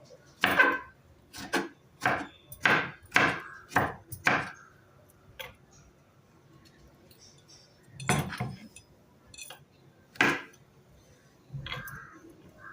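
Knife chopping fresh strawberries into small pieces on a board, a quick run of crisp, close taps followed by a few slower, spaced cuts.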